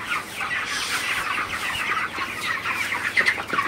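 Broiler chickens on a farm clucking during hot weather, a steady dense chorus of overlapping calls at moderate loudness with no talk.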